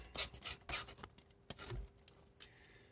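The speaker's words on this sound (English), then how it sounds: "It's going to take a hell of a lot of sanding." Close, dry scraping strokes of sandpaper rubbing back and forth on wood, in uneven bursts with short pauses between them.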